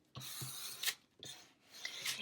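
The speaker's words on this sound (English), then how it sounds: "Use my scraper to get it down nice and flat." A plastic scraper dragged over cardstock on a Cricut cutting mat makes two close, steady rasping strokes with a brief pause between them.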